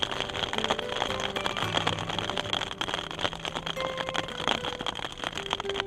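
Raindrops patter steadily on a tent overhead, a dense close crackle of small taps with a faint hum beneath, continuous and fairly quiet throughout.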